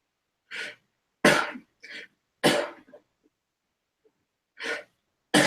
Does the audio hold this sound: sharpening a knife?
no